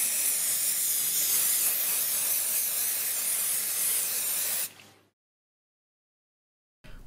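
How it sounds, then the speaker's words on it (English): Fat absorber spray aerosol hissing continuously onto a grease-stained leather surface for about five seconds, then stopping, followed by silence and a faint bump. "spray the area with a fat absorber spray and leave to dry"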